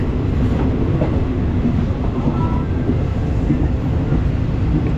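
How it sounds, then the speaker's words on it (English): A train from Kanchanaburi rumbles and clatters steadily at close range as it arrives at Thonburi Station in Bangkok, a continuous heavy rolling noise with faint squeals above it. "This train has come from Kanchanaburi, and I'm getting off this side."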